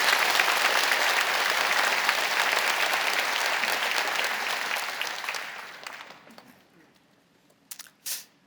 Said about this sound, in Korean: 큰 박수 한번.